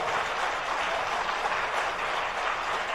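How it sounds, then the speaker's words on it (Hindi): An audience at a Jain religious class claps loudly and continuously, a dense, even wash of applause with no pauses that fills the room. "तालियां जोर से बजाई जाती हमारे यहां।"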